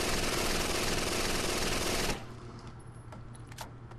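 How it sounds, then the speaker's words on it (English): A Mac 11 submachine gun with a high-capacity magazine fires in Rainbow Six Vegas 2: a loud continuous burst of rapid automatic fire cuts off abruptly after about two seconds, leaving quieter game noise. "I'm going to grab a Mac 11 with a high capacity mag"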